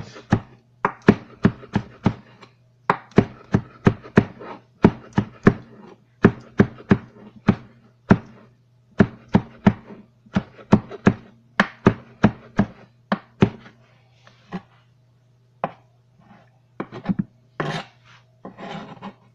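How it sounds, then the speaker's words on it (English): A knife thinly slices green onions on a cutting board with quick, loud, evenly spaced chops in close rapid bursts, a few short pauses between runs, and no talking. "You can leave those whole, but just cut them thinly."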